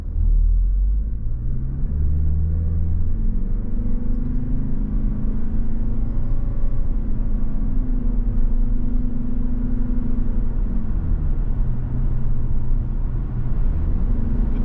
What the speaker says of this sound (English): Now we're going to ease in on the gas because this is a new car.